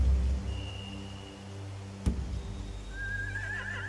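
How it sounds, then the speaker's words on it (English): Horse neighing in The Walking Dead video game, a high whinny rising near the end over a low steady ambient hum, with a faint whistle-like tone and a single sharp knock midway. "They have horses."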